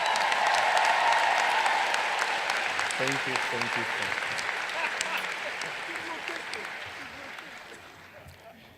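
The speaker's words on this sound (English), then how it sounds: "So join me in expressing our gratitude to our professors and mentors with a hand of applause." Sustained applause from a large commencement audience honoring professors and mentors, loud at first and slowly fading, with a speaker briefly saying thanks over the clapping.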